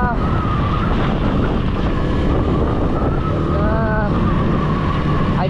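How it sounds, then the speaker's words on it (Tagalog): Strong wind blows in a coastal town near the sea, a constant loud roar buffeting the microphone with rushing gusts and no pause. "Dito sa bayan, ramdam na ramdam mo yung lakas ng hangin."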